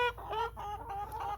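Chickens of mixed breeds, including white leghorns, clucking close by in a short run of repeated nasal clucks and murmurs, loud and without talk.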